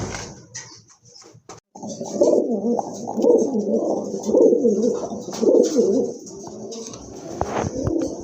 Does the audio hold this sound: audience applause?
no